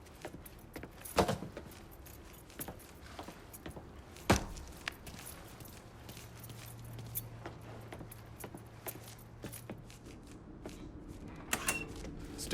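A ring of keys jangles in Mafia III, with brief metallic clinks that stand out over a low steady in-game background hum and a few scattered footstep-like knocks.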